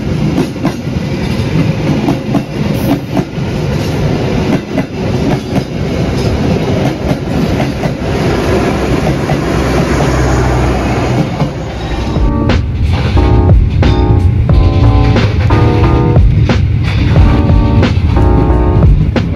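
KA Gumarang passenger train pulls away, a loud continuous rumble of railcars with rhythmic clickety-clack of wheels over rail joints growing sharper and more regular toward the end.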